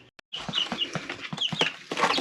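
Several young chickens, grown from chicks, cluck and chirp close by in a quick, busy chatter with no talking.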